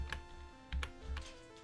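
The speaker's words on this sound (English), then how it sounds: "Sorry about the loud keyboard." Several sharp clicky keystrokes on a loud computer keyboard during a Pokemon game session, a few quick isolated taps over a quiet background hum.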